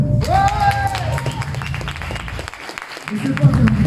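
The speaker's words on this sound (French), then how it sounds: "Vous pouvez vous applaudir." Audience at a French political rally applauding themselves, a dense wash of clapping with crowd noise and voices layered over it throughout, swelling again near the end.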